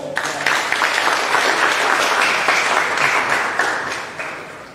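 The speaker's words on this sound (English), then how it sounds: "Can we give the Lord a clap for that?" A crowd at a Ghanaian student fellowship meeting bursts into sustained, loud applause, a dense wash of hand clapping that holds steady for several seconds before it thins slightly at the end.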